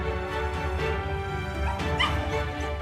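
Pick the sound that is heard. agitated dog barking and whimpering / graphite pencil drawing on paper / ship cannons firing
agitated dog barking and whimpering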